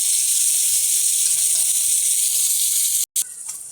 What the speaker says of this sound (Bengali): উল্টিয়ে পাল্টিয়ে দিচ্ছি, মায়া মাছগুলোকে ভালো করে ভেজে নিচ্ছি।